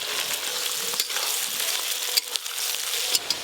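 Chopped onion frying with mustard oil, whole garam masala, cumin seeds and dried chillies in a pan, giving a dense, loud, continuous sizzle with a few brief spatula knocks, close, no voices.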